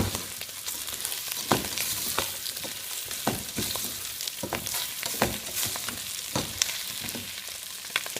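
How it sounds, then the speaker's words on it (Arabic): Dried apricots sizzle and crackle as they roast in a hot pan, a steady close frying hiss broken by frequent sharp pops and stirring scrapes, with no talk. "هسه راح اخلي المشمش المجفف اللي هي الطرشانه. طبعا هي نفسها اسمها القيسي هاي الماركه، واظل احمسهم زين."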